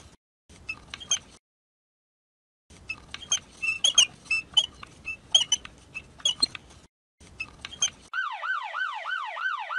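A wailing siren rises and falls in a quick repeating cycle at the end, after scattered squeaks and light pattering sounds.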